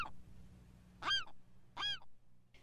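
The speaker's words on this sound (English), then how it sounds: "The alarm calls of this western gull" Western gull giving sharp alarm calls close to a photographer, two loud harsh cries about a second apart and the start of a third, over a low background hum.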